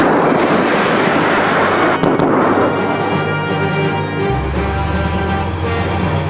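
BAE Systems AS90 self-propelled 155mm gun firing, a loud broadband blast that fills the scene continuously with heavy low rumble and a lingering roar, no speech.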